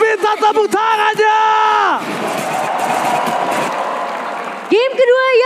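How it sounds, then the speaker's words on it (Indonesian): A loud crowd cheers and applauds in a big arena at the MPL Indonesia Season 12 esports grand final, bursts of shouting over sustained clapping, with an announcer's voice booming before and after. "So, MPL Grand Final, minta tepuk tangannya!"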